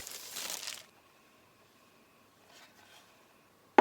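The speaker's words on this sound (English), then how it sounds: "Time to unwrap our magic book." Packaging being unwrapped from a Hogwarts Legacy collector's box magic book: a short burst of crinkling and tearing, then near quiet with faint rustles and a sharp final crackle.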